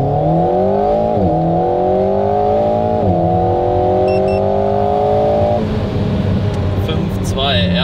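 A Renault Alpine A110 in sport mode launches hard from a standstill, its engine climbing through the gears with a couple of quick shifts before easing off, loud and close throughout with rising whine.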